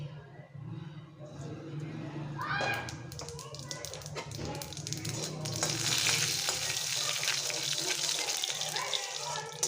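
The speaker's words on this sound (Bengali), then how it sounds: "তেল গরম হয়ে গেছে, আমি রাঁধুনি দিয়ে দিচ্ছি।" Radhuni spice drops into hot mustard oil and crackles, with some clatter at first, then swells into a loud, dense, continuous sizzle that holds to the end.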